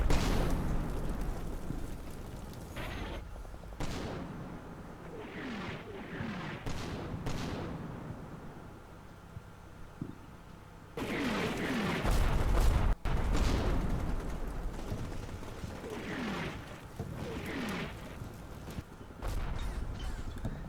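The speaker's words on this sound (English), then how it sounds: "The harassing enemy artillery barrage is unnerving" A harassing enemy artillery barrage in Combat Mission Shock Force 2 rumbles at moderate distance, with scattered booms and crackling impacts and a heavier cluster of blasts partway through.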